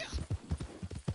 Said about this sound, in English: I need to just get on the horse and go.